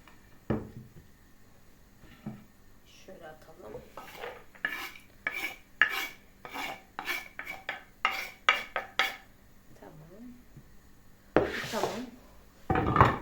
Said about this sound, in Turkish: Şimdi bir baş soğan da doğrayacağım.